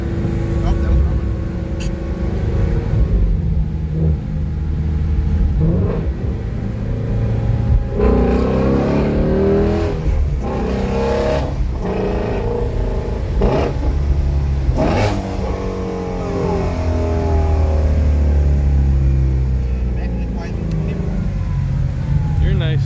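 A 2018 Ford Mustang Shelby GT350 driving, its engine a loud steady drone with rising revs and gear changes, heard from inside the car while people talk over it.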